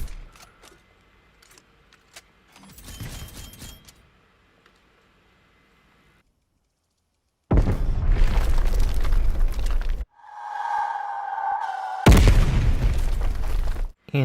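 Shot fired in Black Ops Cold War on the Zoo map, a loud booming blast followed by heavy explosive bursts and rumbling noise, with quieter stretches between.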